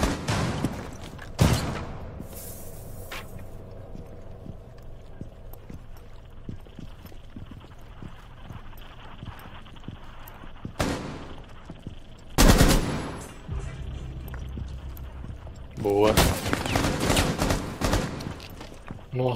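Gunfire in Rainbow Six Siege, a PC shooter match: scattered single shots and short bursts crack through the clip, with louder sharp bursts near the middle and end under continuous game ambience and footsteps.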